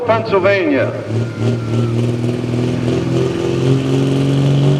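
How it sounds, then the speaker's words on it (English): A pulling truck at a Boonsboro truck and tractor pulling showdown revs its engine loudly and steadily, the roar climbing in pitch under an announcer's talk. "The RPMs are coming up"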